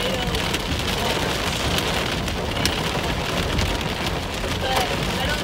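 Hail drums on a car while driving through a storm, a dense, steady, loud patter of hard strikes on the roof and windshield with a broad hiss of rain underneath.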